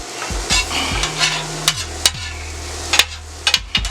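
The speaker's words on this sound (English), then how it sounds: "We're gonna let that cook through. Let our chicken nicely cook through." Chicken fajita filling cooks in a pan, with a low steady sizzle under sharp scraping clicks of a utensil stirring against the metal.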